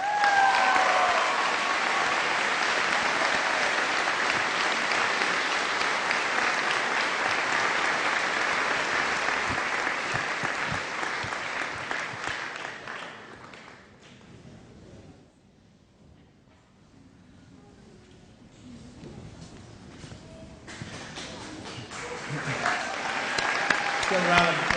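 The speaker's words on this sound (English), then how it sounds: "Give a round of applause for those 4 recipients." High school graduation audience applauds award recipients with loud, sustained clapping that fades to near quiet midway, then swells back up as a new round begins.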